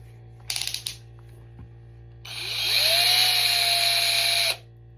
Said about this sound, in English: It's still drilling.